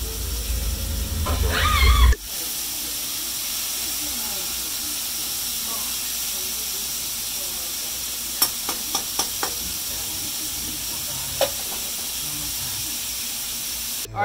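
Rice sizzling and hissing steadily in a hot pan with butter, a loud burst of stirring at the start, then a continuous close frying hiss broken by a few sharp clinks of the utensil against the pan.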